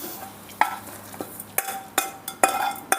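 A spoon stirs chilli-powder tempering into Andhra-style ridge gourd dal kootu, giving several close, sharp scraping clinks at an uneven pace over a quiet background, with no talking.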